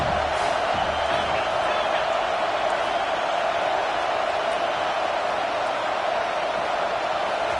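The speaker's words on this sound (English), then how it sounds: "Decibels rising as the crowd gets behind this defense on 3rd down." Football stadium crowd roaring for the defense on a 3rd down, a loud, dense and unbroken wall of cheering and shouting that holds steady throughout.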